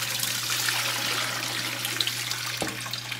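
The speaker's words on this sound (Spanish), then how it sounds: "vamos a tirarle toda el agua" Water poured off a tray of candied pumpkin, a steady splashing stream with a faint low hum beneath and a brief knock near the end.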